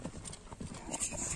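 Horses' hooves clip-clop at an ulak goat-grabbing horse game, a quick uneven patter of hoofbeats heard faintly at a distance, with indistinct voices in the background.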